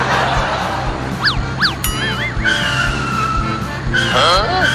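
A tempo driven fast with tires skidding and squealing in rising and falling chirps over a low engine rumble, while people talk and laugh throughout.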